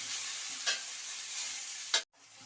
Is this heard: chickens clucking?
no